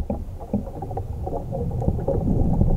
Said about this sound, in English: it's just picking up the rattling of the trees